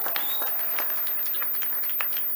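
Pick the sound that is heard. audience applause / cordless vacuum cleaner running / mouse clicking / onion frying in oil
audience applause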